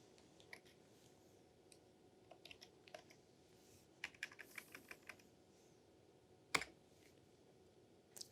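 Fingers typing on a computer keyboard, quiet clusters of key clicks with a louder clack near the end, in a hushed room without speech.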